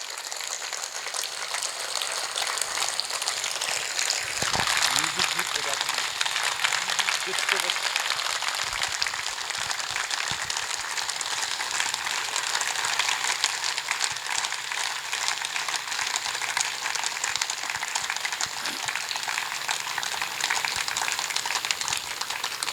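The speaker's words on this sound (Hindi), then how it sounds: "सभी अपने स्थान पर खड़े होकर के, और जब तक ताली बजाएं जब तक दीदी अपने आसन पर विराजमान ना हो" A standing audience claps continuously as a yoga exercise at a Brahma Kumaris gathering in Madhuban, a dense, sustained wall of applause lasting over twenty seconds with no break, louder and fuller in the middle stretch.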